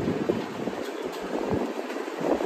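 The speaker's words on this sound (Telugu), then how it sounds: "ఫైనలీ మన ట్రైన్ చిత్తూరు నుంచి స్టార్ట్ అయిందండి" Passenger train rolling out of Chittoor station, a steady rumbling wash of wheel and carriage noise with wind buffeting the microphone, heard from on board with no talk.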